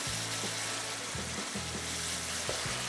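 Minced meat keema fries dry in an open pan, hissing and sizzling loudly and steadily throughout, with faint spoon scrapes of stirring and no talk.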